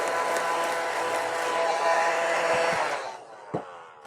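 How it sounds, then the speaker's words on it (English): A household vacuum cleaner runs with a loud, steady whooshing roar and a faint whine, then winds down and cuts off, leaving a few soft knocks. "let's get the vacuum out and clean this up"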